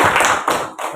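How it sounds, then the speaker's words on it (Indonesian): Audience in a classroom teacher-training session clapping together for about a second, a dense burst of claps with a couple of louder accents, close and fairly loud. "Tepuk tangan untuk kita semua."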